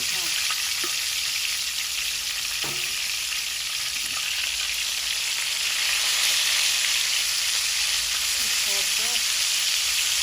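Hot cooking oil sizzling in a pan while fish curry with eggplant and potato is prepared, a steady dense crackle with a few soft knocks and faint background voices.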